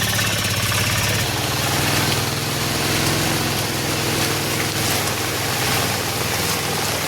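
A motorbike engine running steadily as it rides through flood water from a swollen river at a collapsed bridge in a Konkan village, a continuous loud droning hum with no break.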